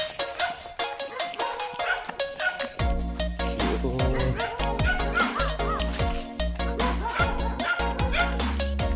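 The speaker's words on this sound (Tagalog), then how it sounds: "aso." A dog barks and yips close by, loud and excited, amid busy background noise and occasional voices.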